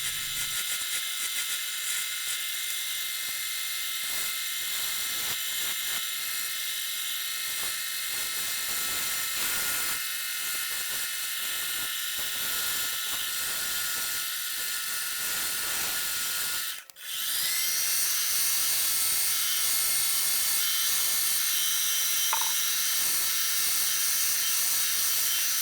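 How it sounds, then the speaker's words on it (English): Continuous hiss of sanding on a copper piece being brought to a mirror finish, steady and close with one brief interruption partway through. "This is the final sanding. I'm going to get the outside to a mirror finish"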